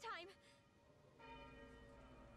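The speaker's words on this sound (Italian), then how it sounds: "Ma dai, queste campane." Bells ring in the Tales of Arise video game, with a sharp bright strike at the start and a faint sustained ringing tone behind it, quiet overall.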